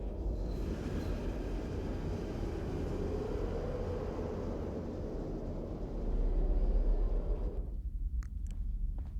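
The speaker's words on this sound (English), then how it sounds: "I think it's just playing the sound file and no train is actually coming." In the video game Fallout London, a deep rumble of an approaching train builds steadily, swelling louder toward the end before cutting off abruptly into quiet with a few faint clicks.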